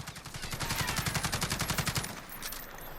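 Rapid automatic fire from an AUG HBAR rifle with a compensator in Call of Duty Modern Warfare, a steady burst of about two seconds of evenly spaced shots, then it stops and a quieter tail follows.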